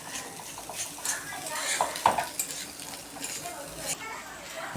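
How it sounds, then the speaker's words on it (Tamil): A spoon stirs egg podimas, scrambled egg with pepper, in a hot pan, giving a soft continuous sizzle with scraping strokes and a few sharp metal taps, close and moderately loud. "இப்போ கரண்டி வச்சு நல்லா கலந்து விட்டுக்கோங்க"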